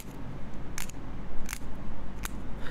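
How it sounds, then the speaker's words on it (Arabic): A fingernail slides across the edge of a pen during a sleight-of-hand trick, making three short, sharp clicking scrapes spaced evenly apart, like a cap being pulled off, over a low background hum. "Slide your nail across and it's going to look like you're taking it off."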